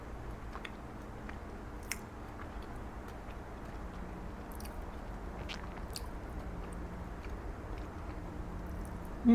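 Someone chewing a peanut butter Nutter Butter ball, with soft, close, moist mouth sounds and occasional small clicks over a quiet background hum, continuing steadily for several seconds.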